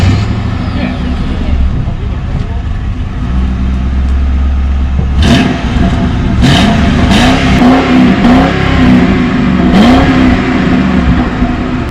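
A Ford Crown Victoria's engine rumbles and revs as the big sedan pulls away on a drive, a steady close mechanical drone with rising accelerating sweeps and some sharp interior clatter toward the end.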